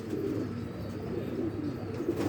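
Pigeons of a crossbred breed coo softly in a loft, low murmuring calls blending into a continuous faint hum of background noise.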